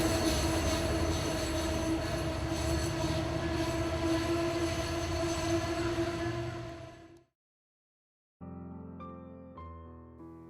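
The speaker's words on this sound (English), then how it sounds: "as you can see when the southbound regional train enters" A southbound regional train passes on a banked curve near Mystic, loud and close with rolling wheels and a sustained metallic squeal, fading out abruptly; after a gap, a separate tonal musical passage begins.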